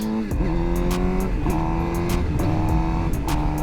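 A motorcycle engine revs loud and close as the rider makes quick clutchless upshifts, the pitch climbing then dropping sharply at each of several gear changes.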